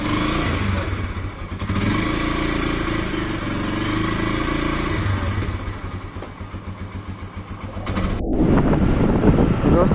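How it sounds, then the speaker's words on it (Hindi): A motorcycle rides at about 4 a.m. along a city road near the Red Fort toward India Gate. The engine hums steadily under wind buffeting the microphone and dips partway through before rising again. "ये रही अपनी बाइक, तो लेट्स गो"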